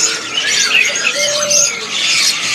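A caged cucak cungkok songbird at a bird market calls with bright, repeated chirping phrases, loud and close throughout, with no voices.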